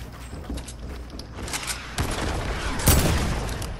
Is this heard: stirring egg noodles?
no